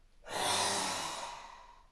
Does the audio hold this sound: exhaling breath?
yes